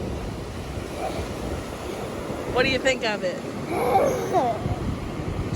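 Ocean surf and gusting wind roar steadily at Frisco Lifeguard Beach, buffeting the microphone, while a voice speaks briefly over the noise.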